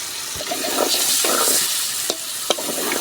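Fresh tengra fish sizzle loudly in hot oil in a pan while being stirred, a steady crackling hiss broken by a few sharp scraping knocks of the spatula.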